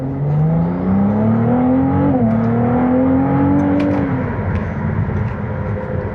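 A Ferrari 296 GTB Assetto Fiorano accelerating hard in first gear, its engine note rising steadily, dipping briefly at a shift point, then climbing again, loud and close inside the car before easing off.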